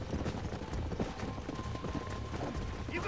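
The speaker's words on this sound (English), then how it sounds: "There's the horses!" Horse hooves clip-clop in the Red Dead Redemption video game, a fast, busy run of muffled thuds from several horses at a gallop, heard over a dense background rumble.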